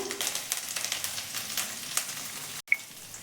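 Chopped chilli and ground spices frying in oil in a pan for a paneer curry, a light crackling sizzle with a few soft stirring scrapes, ending in a brief pause and a sharp clink.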